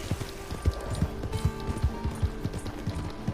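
Horse hooves clip-clop at a steady trotting rhythm in Red Dead Online, close and distinct, with a faint musical tone behind.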